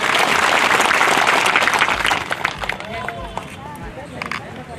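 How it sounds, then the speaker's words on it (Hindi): A crowd claps loudly at an anniversary assembly, a dense roar of applause that fades after a couple of seconds into murmuring voices and scattered sounds. "सभी जोर से तालियां बजा के सभा में"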